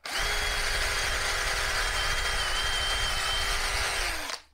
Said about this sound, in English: If you drill a hole in it about the same width